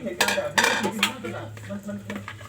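Thai winged bean salad with pork being served onto a plate, with repeated clinks and scrapes of a utensil against dishes and faint talk in the background.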